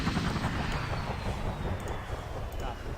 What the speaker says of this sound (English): we'll go ahead and land this chopper here